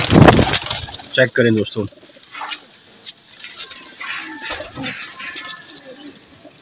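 Pigeons coo and flutter nearby in a loft housing about 60 to 65 pairs, with someone talking over them at the start and scattered soft rustling and bird calls throughout.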